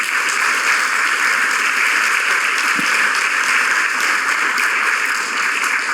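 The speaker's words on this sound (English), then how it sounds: "And let's give them a round of applause." Dense, loud audience applause at a philanthropy awards celebration greets an award winner, a continuous even roar of clapping from a large crowd sustained throughout.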